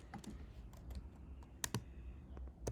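Quiet keystrokes on a computer keyboard while a search term is entered on a NYC museum website: a few soft, irregular clicks that grow sharper near the end.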